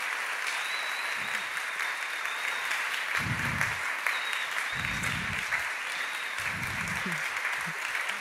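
Steady audience applause at an urban poetry event welcoming a poet to the stage, continuous and moderately loud throughout, with occasional whoops and low thumps from the crowd.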